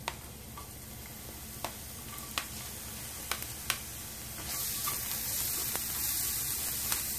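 Onion fries in a little oil in a heated pot, giving a continuous soft sizzle with scattered sharp ticks and pops, growing slightly brighter toward the end.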